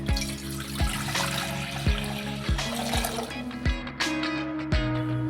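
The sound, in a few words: water being poured into a cooking pot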